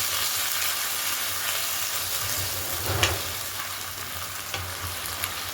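Onion, ginger and garlic fry in a pan for a fish-and-vegetable chorchori, a steady, close sizzle with occasional stirring scrapes.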